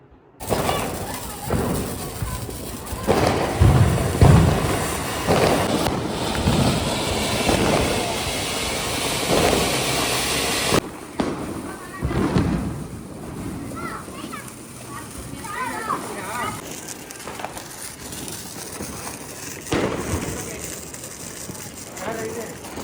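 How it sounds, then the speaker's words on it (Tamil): Diwali firecrackers burst at night around a home celebration, sharp irregular cracks and pops scattered through the scene, with children playing and people talking throughout. "இந்த நைட் பட்டாஸ்லாம் வெடிக்கலாம்"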